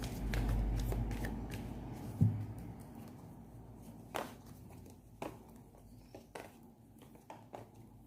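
Tarot cards shuffled by hand, a close, soft papery riffle at first, then scattered light slaps and flicks of cards, fairly quiet with no talk.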